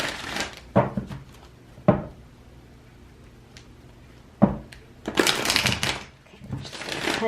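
A deck of tarot cards being shuffled and handled close up, with sharp taps of the deck and riffling bursts that grow busier near the end, with no talk.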